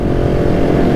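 A KTM 690 SMCR supermotard motorcycle's engine runs loud and close, with a dense, steady low rumble and no clear rise in pitch over one second.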